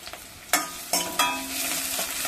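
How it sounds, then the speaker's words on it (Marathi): Onion sautéing in a pan for misal pav, with a few sharp stirring scrapes over a steady, soft sizzle of frying that continues throughout. "आता आपण कांदा घातलेला आहे तो छानपैकी गुलाबी असा परतून घेऊया"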